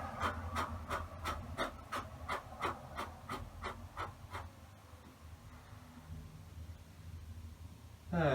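Short, sharp exhalations during a breathing warm-up exercise, about a dozen evenly spaced puffs in quick rhythm, close and clear, then fading into quiet room tone before a louder sound at the end.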